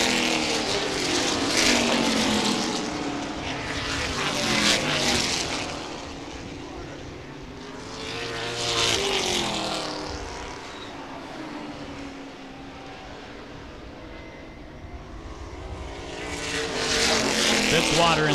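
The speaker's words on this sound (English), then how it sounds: "Fitzwater in the 34 machine looks like he may be spacing out ahead of the 44 of John Gatton Jr." Late model race cars roar around the Baer Field Speedway oval during a feature event, engines swelling and fading as the pack passes in waves, with a commentator talking over the continuous loud drone.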